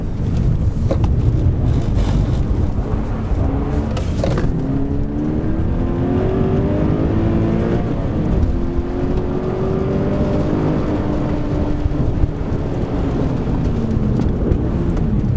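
A 2013 Toyota GT86 sports car is driven hard through a corner, its engine note rising and falling in pitch as it revs, heard from inside amid heavy wind buffeting and road rumble.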